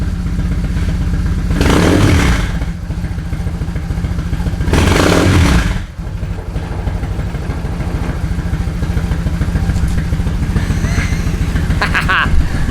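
A BMW motorcycle engine idles with a steady, close, loud chug, and two throttle twists each swell it into a roaring rev before it settles back to idle.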